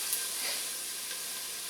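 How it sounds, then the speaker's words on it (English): Garlic sizzles in a pot for spicy chicken noodle soup, a steady close hiss of frying oil with faint stirring, alone without talk. "we don't want to burn the garlic"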